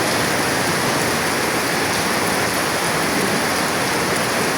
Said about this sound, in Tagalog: Oh my God, ang lakas ng ulan